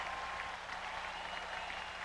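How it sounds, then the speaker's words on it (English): A stadium crowd at a 1995 NFL preseason game, Steelers at Buccaneers, cheers and applauds in a dense, steady roar heard from a distance, sustained without letup. "And the crowd is on their feet"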